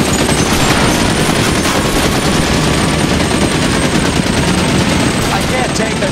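Rapid, sustained gunfire during a car chase in L.A. Noire rattles on continuously and loudly, mixed with engine roar and occasional voices.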